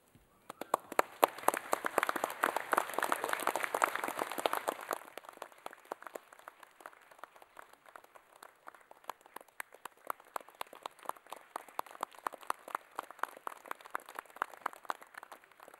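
Graduands applaud at a Massey University graduation ceremony in Manawatū; faint, distant clapping from many hands starts dense and then thins into scattered individual claps.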